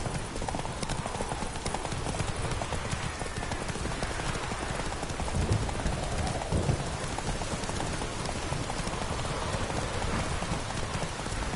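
Hooves of a horse in The Witcher 3 video game clip-clop steadily at a gallop through falling rain, a continuous patter of raindrops under the rhythmic hoofbeats for the whole stretch.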